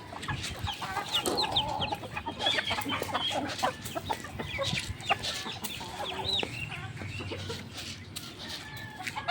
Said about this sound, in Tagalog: Yan yung mga manok ko guys.